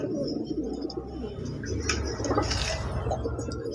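Fancy pigeons, including Lahori and black magpie breeds, coo at a pigeon farm: a low, throaty cooing from several birds overlaps continuously with faint clinks and rustles in the background, and nobody speaks.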